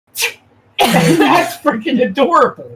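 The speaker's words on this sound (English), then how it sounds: "That was an adult human sneeze." A single short adult human sneeze bursts out near the start, followed right away by close conversational speech.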